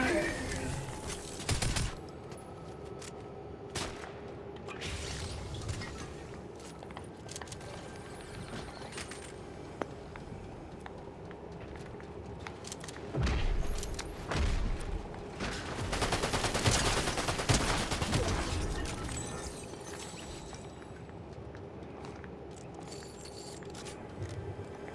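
Gunfire in a shooter video game: bursts of shots and rapid automatic fire with mechanical clicks over a dense busy game mix, with a voice talking at times.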